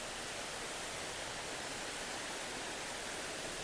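Clear water streams down from the hills in Penang Botanical Garden, giving a constant, dense rushing wash nearby with no breaks.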